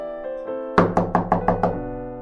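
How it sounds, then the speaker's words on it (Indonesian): Six quick, evenly spaced knocks on a fragile wooden door ring out clearly and close, preceded by a few faint taps, with a low sustained musical tone underneath. "Dengan hati-hati Johnson mengetuk pintu yang rapuh itu."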